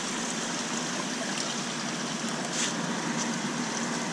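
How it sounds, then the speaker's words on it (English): Water runs along under a row of fish tanks and drains to one end, a steady, close trickling rush with no pauses and no voices. "And the water is running down under the tanks, as I already shown."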